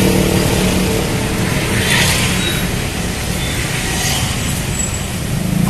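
Street traffic with angkot minibuses and buses rumbles continuously past at close range, a dense steady roadway roar without talk.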